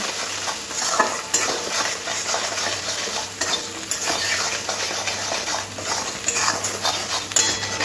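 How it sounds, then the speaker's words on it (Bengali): Chicken with spices stir-fried kosha-style in a pan gives a steady close sizzle, broken by scraping and stirring clatter from a utensil against the pan, with no talk. "এবার সব কিছু ভালো করে কষে নিতে হবে।"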